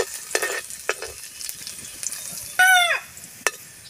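Garlic sautéing in a pan just after tofu was fried: a burst of sizzling and spattering oil among sharp clicks and scrapes of a utensil stirring against the pan, with brief louder hissing moments and no talk.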